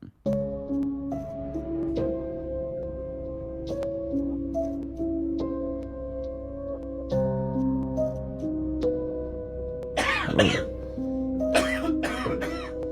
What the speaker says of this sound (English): Why do you start coughing